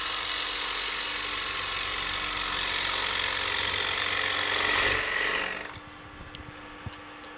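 A chisel cuts into wood turning on a lathe while shaping a darning mushroom, a steady loud hissing scrape for about five seconds that stops abruptly, leaving a faint motor hum and small knocks.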